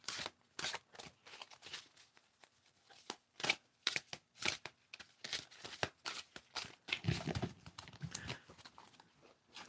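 Rapid papery riffling and slapping of large tarot cards being shuffled, in repeated bursts with brief pauses, close and fairly quiet.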